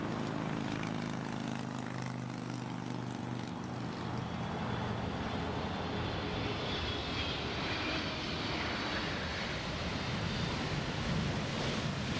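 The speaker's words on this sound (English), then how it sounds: "an Ethiopian cargo flight caught everyone's eye when it made an extremely rocky landing" An Ethiopian cargo plane lands in a strong crosswind, its engines a loud, steady roar with rushing wind noise that shifts in pitch throughout, no voices.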